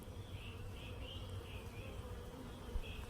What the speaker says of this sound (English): I've got a little bee. They're getting a little excited because they can smell her.